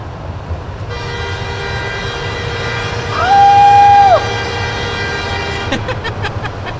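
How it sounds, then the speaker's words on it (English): A car horn sounds one sustained honk lasting about a second, booming inside a road tunnel over steady engine and road rumble, with a few sharp knocks near the end. "Windows down, honk the horn, tunnel tradition."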